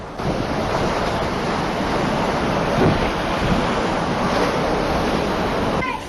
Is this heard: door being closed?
no